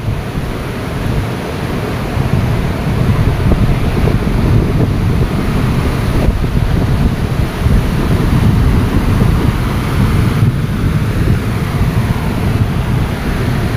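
Sea water and waves washing onto the shore beside moored boats at high tide, a loud, steady roar of surf mixed with heavy wind buffeting, continuous with no voices.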